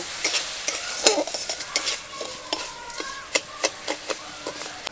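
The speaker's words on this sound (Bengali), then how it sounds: "ক্যারামেলটা তৈরি করার সময় কিন্তু সব সময় খুন্তিটা নাড়তেই থাকবেন" A spatula stirs caramel in a wok for sweet yogurt (mishti doi), giving repeated scraping strokes and light clinks over a soft bubbling sizzle, close and moderately loud, with no talk.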